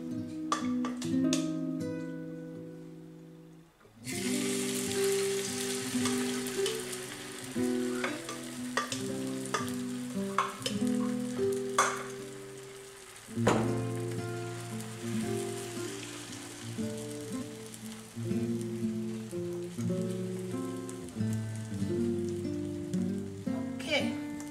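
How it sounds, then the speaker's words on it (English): A Spanish tortilla fries gently in oil on low heat, giving a continuous crackling sizzle broken by sharp clatters and pops as the pan is handled, with a brief quieter stretch at the start. "are going to allow it to fry also on a low heat"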